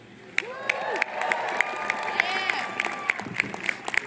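A crowd of graduates at a university commencement cheers and applauds, with sharp claps scattered over a steady wash of voices and whoops.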